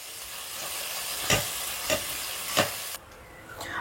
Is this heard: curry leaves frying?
yes